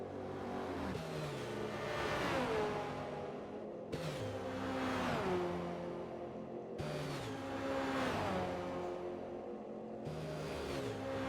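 BMW and Chevy race cars side by side in a racing video game on the Nürburgring, engines revving loud and steady with repeated upshifts and gear changes, pitch sweeping up and dropping in cycles, no talk.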